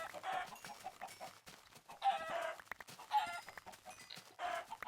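Chickens in the Minecraft video game cluck and squawk in short repeated bursts, quiet and fairly near, with no talking over them.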